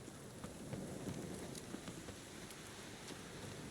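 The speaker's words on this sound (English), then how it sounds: "Raining again." Rain in The Witcher 3 video game, a steady faint patter with scattered drop ticks, continuous and without voices.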